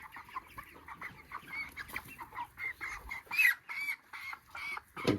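Broiler chickens on a poultry farm cluck and squawk in alarm while being caught and weighed on a scale, a close, busy run of agitated clucks with sharper cries toward the end.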